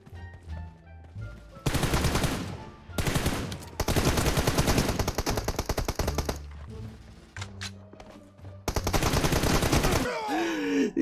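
M4 assault rifle fire in PUBG Mobile, with several long rapid-fire bursts of crisp, evenly spaced shots separated by short pauses, loud and close, alongside brief talk.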